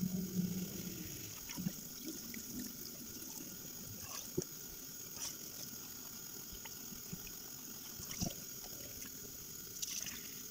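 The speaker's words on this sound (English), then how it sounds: "we are going to let the water run on it." Tap water runs into a sink in a quiet room, a soft, steady trickle and splash with occasional small knocks, faint and continuous.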